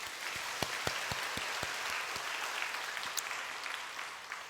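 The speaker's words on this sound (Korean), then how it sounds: "우리 찬양대에게 다시 한번 뜨거운 박수" Congregation applauding the church choir during a Sunday morning worship service, a steady wash of clapping with a few sharper individual claps standing out, moderately distant and fairly quiet throughout.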